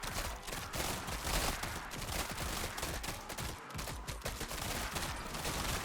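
Rapid gunfire from enemy-shooting weapons in a roguelike action game, dense bursts of shots packed close together and sustained at high level throughout, with no talking over it.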